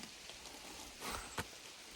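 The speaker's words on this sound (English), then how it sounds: "Welcome to a rainy day on trail." Rain on a hiking trail on the Vermont Long Trail in cloudy weather, a soft continuous patter with a couple of louder nearby drops, and no talking.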